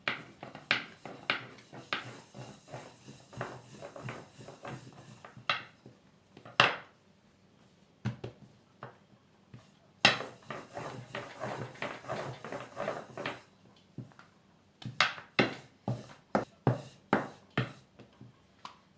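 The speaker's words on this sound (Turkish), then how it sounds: "yine hiç dinlendirmeden bezelerimi servis tabağı büyüklüğünde açacağım" A rolling pin knocks and rattles against the board as small balls of dough are rolled out into thin, plate-sized yufka sheets for a layered potato pastry, a series of close, irregular wooden thumps and taps with no talking.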